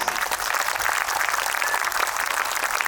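A crowd at a spiritual talk claps loudly and continuously, a dense, even wash of applause with no voices over it.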